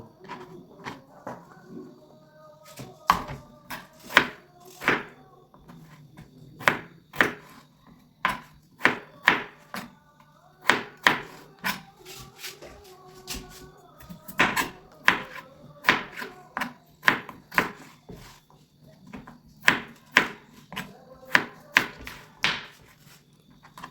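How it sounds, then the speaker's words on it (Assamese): Knife chopping potatoes into small pieces on a cutting board for an Assamese duck curry with ash gourd, a long run of sharp, close, uneven chops with brief pauses, no talking. "তিনিটা আলু সৰুকৈ কাটি ল'ব।"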